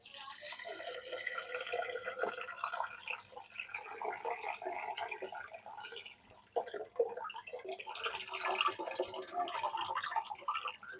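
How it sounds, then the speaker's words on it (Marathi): Water splashes and trickles into a container to soak ingredients for anarase, in a steady, uneven stream, close by, with small drips and clinks. "याच्यामध्ये पाणी टाकून घेणार आहे"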